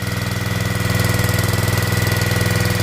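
A log splitter powered by a Predator small gas engine runs steadily up close, its loud, even mechanical drone pulsing with a rapid rhythmic knock and no voices over it.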